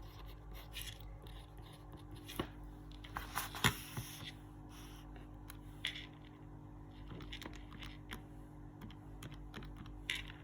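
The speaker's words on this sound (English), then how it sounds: "Type into my calculator" Fingers tapping keys on a calculator keypad while working out a trigonometry problem, a series of soft, close clicks in irregular bursts over a steady low hum, with no talking.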